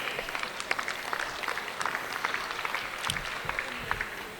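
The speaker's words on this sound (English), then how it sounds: "Again, another big round of applause for your Supreme Champion." Applause from a dairy show crowd honouring the Supreme Champion, a steady moderate patter of many hands with a few louder claps and some low rumble near the end.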